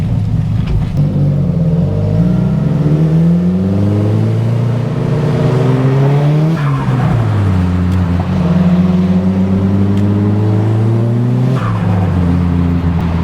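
Holden VK SS V8 engine at a busy Sydney car scene, loud and close, idling with a deep rumble and rising and falling in pitch through repeated revs, with no talk.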